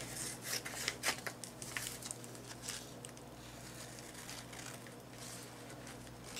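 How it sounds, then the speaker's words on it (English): Decent scissors cutting printed paper apart into strips, a quiet run of close, soft rasping snips and rubbing paper sounds with no talking. "I'm gonna cut them apart in strips"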